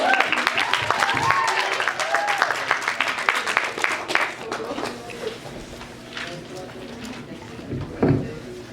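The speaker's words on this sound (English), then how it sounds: "give him a round of applause" Audience applause for a performer at a high school poetry slam at Turner Fenton Secondary School, loud clapping and cheering at the start that thins out and fades, giving way to a voice speaking.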